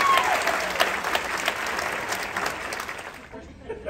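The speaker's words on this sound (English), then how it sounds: "Give them a round of applause." Audience applause at a game show aboard the cruise ship Oasis of the Seas, a dense, lively burst of clapping with crowd noise under a host's voice, tapering off near the end.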